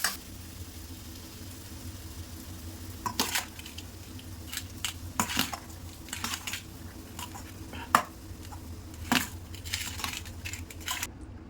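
Cooked rice being stirred into fried tomato onion masala with the stove off to make tomato rice. A spoon scrapes and clinks against the pan in irregular strokes, with soft squishing between them, close and fairly quiet.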